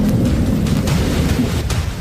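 Heavy rain pours down during a thunderstorm in Surat, a dense, steady roar of rainfall with low thunder rumbling through it for the whole stretch, loud and close.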